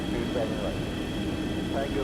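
The simulated FlyJSim 737 twinjet's engines run up in X-Plane 11 as a steady, even drone with a constant high whine, unbroken throughout.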